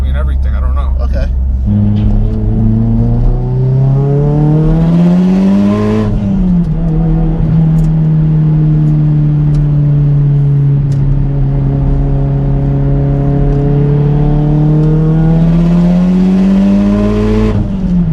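A Mitsubishi Evo X fitted with a 6266 Gen 2 turbo accelerates hard and close up, its engine note climbing steadily through the gears with brief drops at the shifts, loud and sustained throughout.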